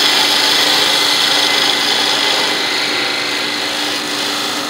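Wood lathe turning a two-piece wooden yo-yo, a loud steady whirring hiss of the spinning workpiece with the tool scraping against it, close and continuous without speech.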